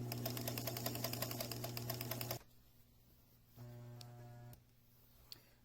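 A sewing machine stitches around a circular cloth bell cover for an instrument mask, with rapid close mechanical pulses that cut off after two seconds, then a quieter hum and a brief second run.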